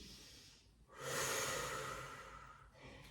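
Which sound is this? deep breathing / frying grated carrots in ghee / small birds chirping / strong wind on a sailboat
deep breathing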